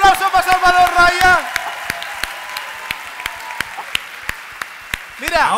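A voice speaks briefly, then scattered audience hand claps ring out in a television studio, thinning to a few isolated claps before another voice returns.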